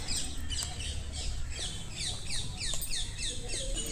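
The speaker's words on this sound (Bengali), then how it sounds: "এখানে অনেক রকম পাখি আছে, পাখির একবার ডাকগুলো শুনুন।" Several birds chirping and tweeting outdoors in quick repeated calls, a busy mix of songs over a low background rumble.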